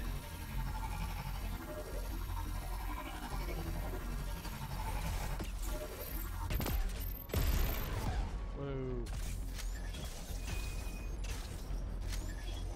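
Particle cannon blasts and impact explosions from the Crackdown 3 video game, with loud broadband bursts clustered midway through a dense, continuous mix of mechanical clanks, creaks and rapid gunfire, followed by whooshing descending sweeps.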